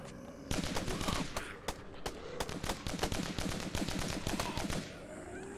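Rapid bursts of gunfire in a zombie video game, loud and dense, with repeated sharp shots in quick succession lasting several seconds before tailing off.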